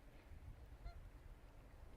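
Geese honk outdoors, a single brief call at moderate distance over low rumbling wind noise.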